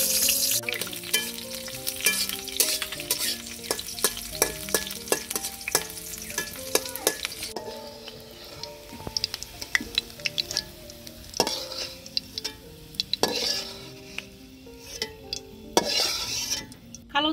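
Onion sizzles in hot oil in a pan while a metal spoon stirs and scrapes it, with repeated clinks against the pan over a steady frying hiss, close and loud.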